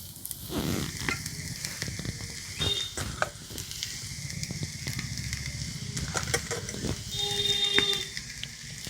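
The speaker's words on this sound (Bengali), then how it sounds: "এবার সেদ্ধ আলুটা ভেঙে ভেঙে দিয়ে দেবো।" Boiled potato broken into a pan of hot oil with onion, chilli and curry leaves fries with a soft sizzle while a spoon scrapes and stirs in uneven bursts, fairly quiet, with no talking.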